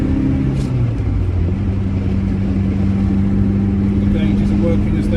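A 1983 Ferrari Mondial QV engine drones steadily while driving, a loud, close low rumble with a held tone that shifts slightly as the gears change.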